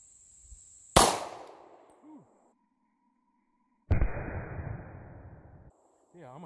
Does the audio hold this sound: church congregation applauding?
no